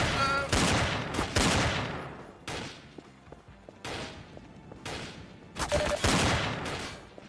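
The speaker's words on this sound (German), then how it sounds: "wer auch immer noch auf mich schießt" Gunfire bursts in Garry's Mod Trouble in Terrorist Town, a shooter game, arriving as several loud volleys of rapid shots separated by brief lulls, with quieter single reports scattered between them.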